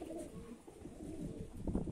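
A big young male pigeon of a Mushaldom high-flying line, in late moult, coos in a low rolling murmur that swells toward the end. The bird sounds close, with no voices over it.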